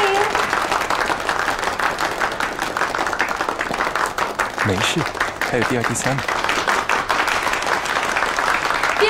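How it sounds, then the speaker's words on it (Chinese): A crowd applauds the winner of a fashion design competition at an award ceremony, with steady, full clapping running throughout while people talk over it. "掌声欢迎"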